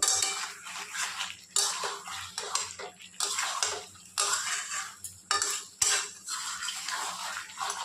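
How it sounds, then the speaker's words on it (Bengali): Metal utensils scrape and clatter against a pan while chicken is stir-fried with masala, with steady repeated stirring strokes and scraping, close and fairly loud, with no talking. "এবার সবগুলোকে ভালো করে কষবো, আবার মশলাটা যাতে ভালো করে মিশে যায়।"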